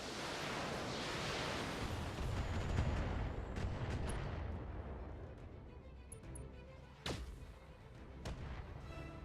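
Heavy mech weapons fire in the BattleTech video game, with a dense roaring barrage at first that fades away, then a few sharp separate impacts, including one loud crack near the end.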